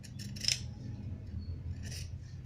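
Sharp scissors snip through the bottom edge of kurti fabric, with a crisp cut near the start and a few lighter snips later over a low, steady room hum.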